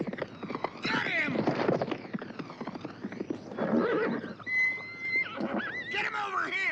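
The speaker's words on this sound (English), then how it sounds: "Stop that horse!" A loose horse neighs loudly and its hooves clatter in a clip-clop rhythm, with shouting voices around it.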